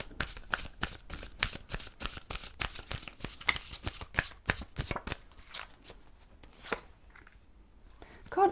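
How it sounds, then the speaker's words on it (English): Tarot cards being shuffled by hand: a rapid run of crisp riffling snaps that thins into sparse, scattered flicks, close and fairly quiet with no talking. "God, I've shuffled so well"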